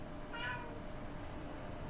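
An indoor cat gives a single short, faint meow early on, heard over a steady low background hum and far quieter than the room noise.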